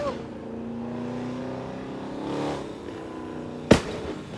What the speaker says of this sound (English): How do you enjoy driving a car that sounds like that?